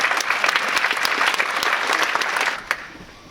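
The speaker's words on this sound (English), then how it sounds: "Let's get a big round of applause for Rodney Mach." Dense, steady audience applause at an Ignite Ann Arbor talk night welcomes a local software developer to the stage; it stays full and even, then thins and fades out near the end.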